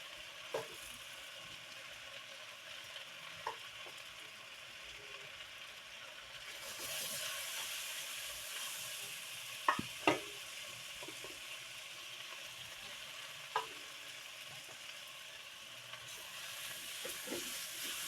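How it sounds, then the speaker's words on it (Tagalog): Mung beans for a monggo with tofu dish going into a pan, giving a soft, low sizzle with occasional stirring taps and clinks, quiet and steady with no talk. "Lagay na natin yung ating munggo."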